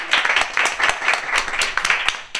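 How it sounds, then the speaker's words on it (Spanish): An audience gives a warm round of applause to welcome contestants on a Spanish university quiz game show, brisk dense clapping heard close and loud, swelling in bursts and tapering at the end. "Y a Mayder, un aplauso."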